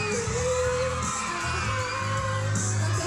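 Gen Z fans scream and whoop at a mall show in Pangasinan as a Sparkle artist sings, the crowd's loud, continuous shrieking layered over the music.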